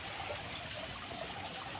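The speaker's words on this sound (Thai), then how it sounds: "มีน้ำตกด้วย" Water from a small garden waterfall flows in a steady, even rush that stays close and fairly loud throughout, with no voices.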